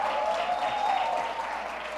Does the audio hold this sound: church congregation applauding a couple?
yes